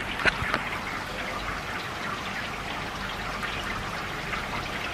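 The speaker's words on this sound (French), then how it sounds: "Et là, il recommence à pleuvoir. Encore des cordes." Steady rain pours down in a dense, continuous hiss, with scattered louder drops and splashes close by.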